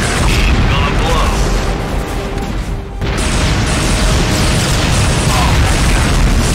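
Unit exploding in the space strategy game Imperium Galactica 2: a loud, sustained booming blast rolls through the whole stretch, with a short dip partway before the rumble resumes at full strength.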